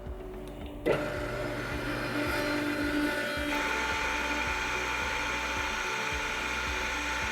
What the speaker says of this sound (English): To start the compressor, just press the on button.